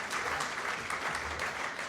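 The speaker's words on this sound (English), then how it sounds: "A round of applause for them, please." A crowd in a concert hall applauds as school singers return, a continuous, even patter of many clapping hands at moderate volume with no talk over it.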